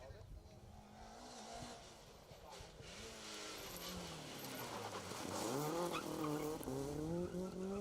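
Rally car on the Manx Rally asphalt stage sliding sideways around a hairpin, its engine note rising and falling with tire squeal as it slides, the sound growing louder toward the end, with a commentator talking over it.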